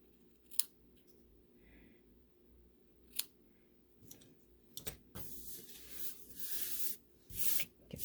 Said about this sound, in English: I am just going to snip